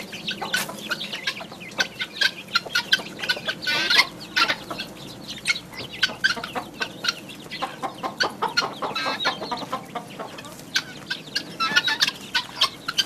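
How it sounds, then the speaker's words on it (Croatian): A hen clucks steadily among her small chicks in the grounds of the Franciscan monastery at Porat. Busy, high peeping from the chicks runs through the whole stretch at moderate distance, with no talk. "ova kokica što ima sada najmanje piliće, ovo su već 3. pilići koje je ove godine ona izvela"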